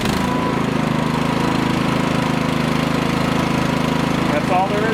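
A small engine on a NiftyLift boom lift starts and settles into a steady, loud, close-up chugging idle with a regular rhythmic pulse throughout.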